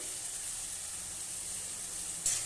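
Ginger-garlic paste, salt, turmeric, ground coriander, cumin and dried chilli powder frying in a pan: a steady, even sizzle with a short, sharper hiss near the end and no voices.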